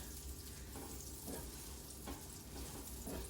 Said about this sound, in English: I like doing it in the pan like this with the butter so it gets nice and it stays moist